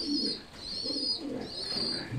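Young pigeons squeak and coo nearby, a few soft, repeated calls rising and falling in a quiet outdoor setting.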